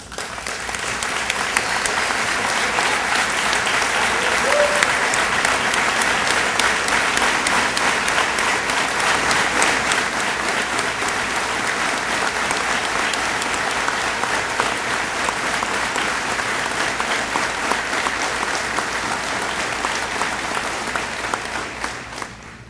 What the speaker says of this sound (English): please join me and stand and applaud these instructors' fine work